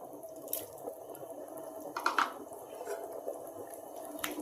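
Dried plums (alu bokhara) drop into a pot of egg biryani with a few faint, soft wet plops and light liquid sounds, close but quiet.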